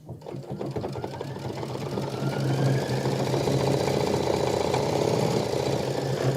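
An embroidery sewing machine runs a triple stitch to tack down appliqué fabric on a quilt block, giving a steady, close mechanical whir and rapid needle chatter that continues without pause.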